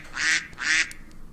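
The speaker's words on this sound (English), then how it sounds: "Hey duck, you're different." Two loud nasal duck quacks close by, evenly spaced about half a second apart, from a duck in the Minecraft mod pack Life In The Woods: Renaissance.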